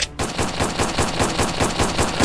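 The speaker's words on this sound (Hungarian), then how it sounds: "Messziről az egész tárat beleengedem." Rapid machine-gun fire from a SpongeBob video game rattles on in an even, fast stream of loud shots, roughly a dozen or more, without any talk over it.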